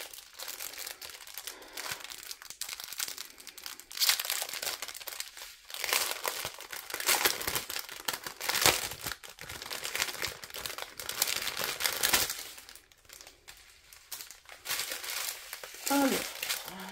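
Crinkly plastic packaging of a Fansells diamond painting kit being opened, with close, repeated crackling and rustling bursts coming and going over about seventeen seconds.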